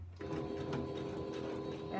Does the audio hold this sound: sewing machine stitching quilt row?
yes